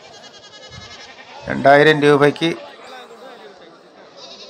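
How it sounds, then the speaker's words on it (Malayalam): A goat bleats loudly and nearby for about a second amid the bustle of a crowded goat market in Kilimanoor, Kerala, with people talking over a steady background murmur. "അത്രയ്ക്ക് ആടുകളാണ് വരുന്നത്"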